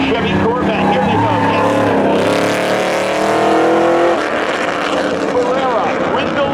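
Drag race start between a 1992 Chevy Corvette and a BMW at a speedway spectator drags, engines roaring loudly and rising in pitch as the cars launch and pull away, with an announcer talking over the noise throughout.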